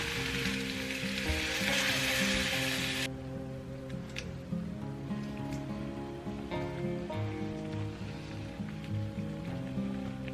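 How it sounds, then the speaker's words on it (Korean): Chicken stew cooking in a pot early in the morning, giving a steady close sizzle and bubble throughout, loudest in the first three seconds, with faint clinks of utensils over a constant low hum. "맑은 국물이 먹고 싶어서 치킨 스튜 끓이고 있습니다"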